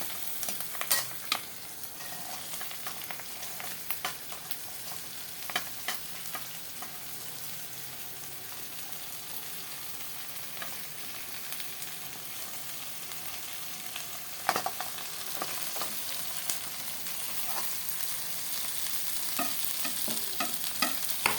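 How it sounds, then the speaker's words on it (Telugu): Okra sizzles and fries in a pan with onion and curry leaves, a steady broadband hiss with frequent scraping stir strokes and a sharper clatter midway, close and continuous with no talking. "మనం తరిగి పెట్టుకున్న బెండకాయలు అన్నీ వేసి మంచిగా కలుపుకొని మగ్గనివ్వాలి."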